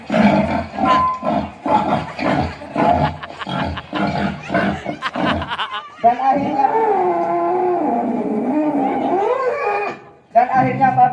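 A water buffalo moos in a long, loud, wavering low call lasting several seconds, right after a stretch of rhythmic talking or chanting voices.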